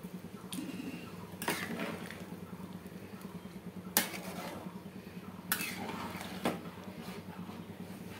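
Rice being stirred in a pot after hot water is poured in for soyabean pulao, with a few sharp scraping clanks of a spoon against the metal over a low, steady bubbling simmer.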